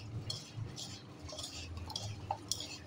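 A spoon scrapes and clinks in a bowl as no-oil, no-sugar snack ingredients are mixed together for shaping into balls, with soft, irregular close-up stirring and no voices.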